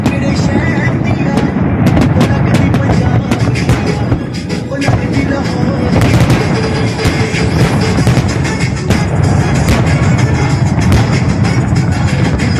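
Fireworks display in Dubai, a continuous dense barrage of popping bursts and booming cracks, loud and sustained throughout with crowd noise underneath.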